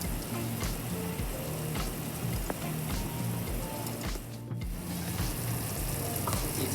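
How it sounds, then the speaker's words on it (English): Rouladen gravy boiling hard on a high simmer in a pot, a dense, steady bubbling and spitting sizzle heard close up without a break. "we're just going to boil it now or on a high simmer to get it to reduce so we have a richer gravy"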